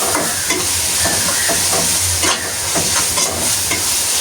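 Onions sautéing in a pan give a loud continuous sizzle, with regular stirring scrapes and clinks throughout and no talk.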